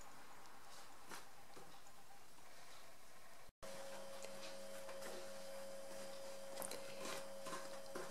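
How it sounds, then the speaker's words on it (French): A sewing machine runs steadily, stitching a closing seam along existing topstitching on a small fabric pouch, with a brief cut partway before the even mechanical hum resumes, a faint tone running underneath. "je vais faire une couture sur mes traits déjà faits, sur ma surpiqûre"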